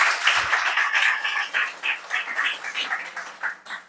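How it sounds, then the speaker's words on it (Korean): A church congregation at a Wednesday evening worship service breaks into applause, a dense crowd of hands clapping together for several seconds, loud and close, then tapering off. "박수 한번 하시죠."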